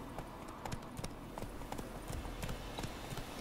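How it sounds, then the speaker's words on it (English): Horse hooves clip-clop at a steady walking pace in The Witcher 3 video game, close and fairly even, against a constant ambient background. "I like how you can adjust the level of your horse speed."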